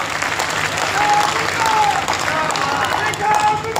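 A crowd claps loudly and continuously for a member of parliament at a public development event in Mehrauli, Delhi, with thick applause and faint crowd murmur throughout.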